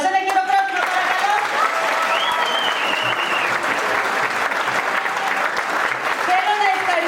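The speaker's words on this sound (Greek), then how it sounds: "Ένα χειροκρότημα παρακαλώ." Audience applause fills a school theatre group's show, a steady dense clapping that holds throughout with a voice faintly heard over it at points.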